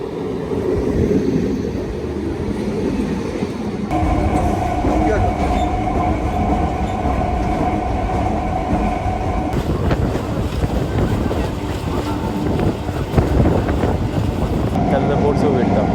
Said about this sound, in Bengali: এখন ঠিক আমাদের ট্রেনটা আসবে এই দিক থেকে